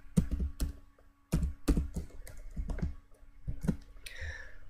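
Someone types on a computer keyboard in a close, quiet setting, with irregular bursts of sharp key clicks separated by brief pauses.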